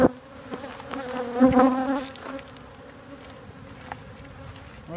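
Honey bees buzz in a hive that is being removed and relocated, a dense close hum that swells briefly and then holds steady, with no voices.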